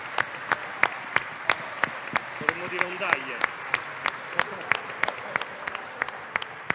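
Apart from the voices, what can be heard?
audience applause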